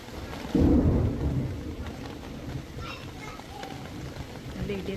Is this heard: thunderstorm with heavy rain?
yes